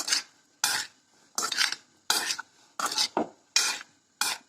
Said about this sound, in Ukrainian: Тепер нам це все треба перемішати, щоб сіль з'єдналась з овочами.